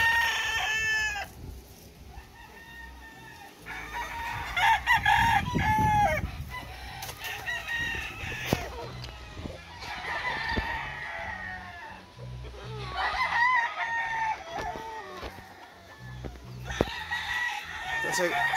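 Fighting roosters at a gamecock farm crow repeatedly in long, strained calls, several birds near and farther off overlapping, with clucking and scattered voices of people talking in between.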